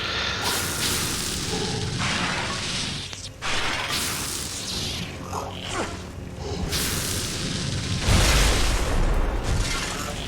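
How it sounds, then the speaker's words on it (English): A game explosion from Star Wars: The Force Unleashed booms loud and close, with whooshing and crashing debris over steady game noise, and a heavy low-end blast near the end. "That was an explosion."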